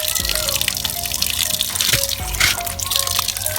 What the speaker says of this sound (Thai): นี่นะคะมินก็จะเปิดใส่ก๊อกน้ำเลยเนาะ